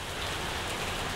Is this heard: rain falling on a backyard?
yes